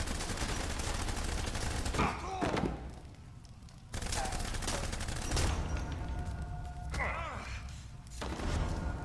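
Gunfire in the Blues and Bullets video game, bursts of rapid shots in several volleys separated by brief pauses, close and loud, with voices speaking between the bursts.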